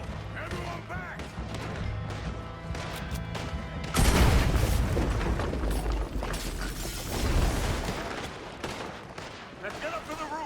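A dynamite blast goes off in Red Dead Redemption 2 amid a gunfight: scattered gunfire and voices, then a sudden loud boom with a lingering rumble and debris, followed by more shooting.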